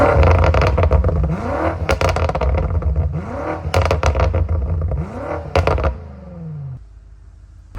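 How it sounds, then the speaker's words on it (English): A BMW M5 fitted with a full exhaust and downpipes in Sport Plus mode, heard from inside the cabin: loud engine revs fall away into repeated crackling burbles and pops in several bursts before settling to a low idle. "I want to show you guys how it sounds. Here, this is from the inside."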